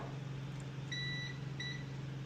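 Samsung dryer beeping: two short electronic beeps, one longer then one shorter, over a steady low hum in a quiet room.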